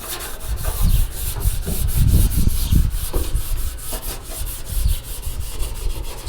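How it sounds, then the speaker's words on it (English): A truck panel is scuffed by hand with a Scotch-Brite pad, a rhythmic back-and-forth rubbing that swells and fades with each stroke, close and dry, with no other sounds. "This is about the simplest sanding you can do with this Scotch-Brite."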